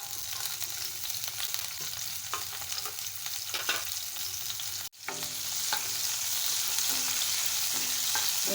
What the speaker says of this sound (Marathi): पॅनमध्ये तेल घातलेलं आहे तेल तापलं की आपण त्यामध्ये आता मिरच्या घालायच्या